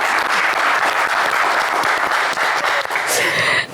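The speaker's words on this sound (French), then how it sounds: "On va l'applaudir très fort." Television studio audience on a game show in Côte d'Ivoire gives loud, sustained applause, a thick continuous roar of clapping close to the microphone that cuts off sharply at the end.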